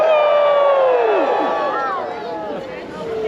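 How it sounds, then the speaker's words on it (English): An evening crowd at the Dickens Holiday Festival in Fayetteville, North Carolina, cheers a county commissioners' chairman as he is introduced, with loud overlapping whoops and shouts that fade slightly, then pick up again. "You may cheer."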